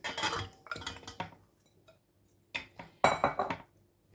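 Several clattering metallic clinks and thuds as pieces of bone-in meat are dropped into a cooking pot, in short bursts separated by a quiet pause.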